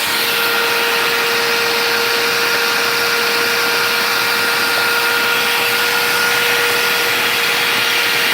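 An electric drill runs without pause during home beer brewing, a loud, steady motorized whine with a constant pitched hum over broadband mechanical noise and no voices.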